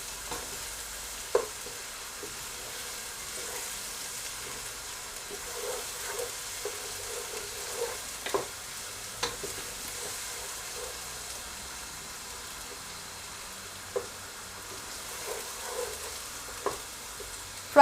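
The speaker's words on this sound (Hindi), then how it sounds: "फ्राई करने के दौरान चम्मच चलाते रहें" Onions frying in a pan for dhaba-style daal chana fry, with steady sizzling and a spoon stirring and scraping through them, producing occasional sharper clinks over the continuous crackle.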